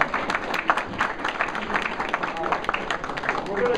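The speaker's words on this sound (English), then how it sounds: "One more round of applause." Applause for panelists at a monthly community meeting, a room of people clapping in a moderate, uneven patter with some voices mixed in, swelling slightly toward the end.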